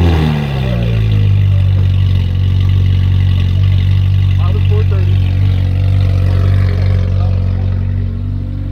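A Ferrari sports car idles loudly nearby with a deep, steady engine drone and a brief rise in pitch at the start, while people talk over it at a car show.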